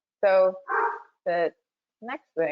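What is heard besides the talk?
dog barking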